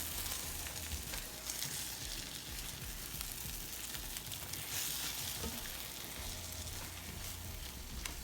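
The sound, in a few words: soft scrambled eggs frying in a pan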